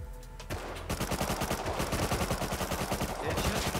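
Rapid automatic gunfire in the survival game Rust, a loud continuous burst of evenly spaced shots that lasts about three seconds after a brief quieter lead-in.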